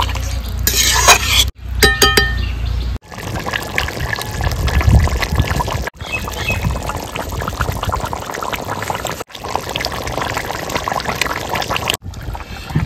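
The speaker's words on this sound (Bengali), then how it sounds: "যে মশলার জলটা ছিল আমি সেই জলটাই দিচ্ছি" Spice water poured into a pot of village-style desi chicken curry after the frying stage: a loud, steady pour and splash running throughout, with brief pauses and some stirring and pot clatter, no talk.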